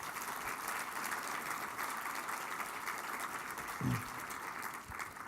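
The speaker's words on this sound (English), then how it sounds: "So let's have a round of applause for Kristen and Ron." Steady applause from a convention audience at a communication association's annual presidential address, fairly faint and distant, holding evenly for several seconds with a brief low thump partway through.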